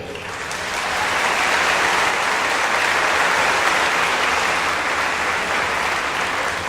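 Sustained audience applause for the faculty at a high school graduation ceremony, swelling in after a second and continuing as a dense, even wash of many hands.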